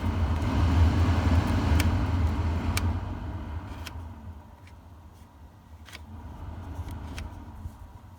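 Interior blower fans of a VW Golf Mk3 run with the ignition on, a steady low rushing drone that drops in level partway through, with scattered faint clicks and no talk.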